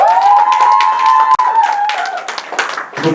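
Audience clapping in a hall during an evening youth worship rally, a brief burst of applause over a sustained tone, fairly loud and close, with scattered hand claps toward the end.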